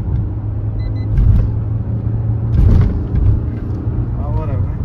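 A new car on the road, its steady engine and road rumble running continuously up close, with brief louder swells of passing traffic or bumps; a person talks over the drive.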